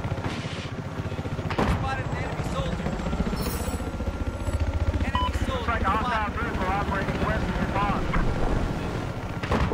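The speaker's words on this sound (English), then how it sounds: "Look out, chopper, they're attacking." A helicopter in the video game Battlefield 4 sends a steady, loud, pulsing rotor roar through a busy conquest match, mixed with bursts of gunfire and wind-like rumble.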